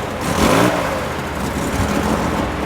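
A Chevrolet Corvette C8 at a Manhattan Beach cars and coffee meet revs up as it pulls away, a rising engine swell near the start that settles into a steady mid-pitched drone, no talk.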